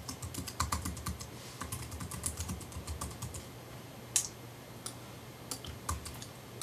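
Steady typing on a computer keyboard while an email address is entered, a fast run of close, light key clicks with a few sharper taps, heard alone without talk.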